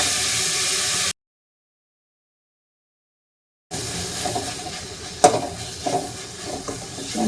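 Small-cut garlic and curry leaves sauté in a pan with a loud sizzle and hiss, broken by a stretch of total silence, then quieter frying with stirring clatter and a sharp knock.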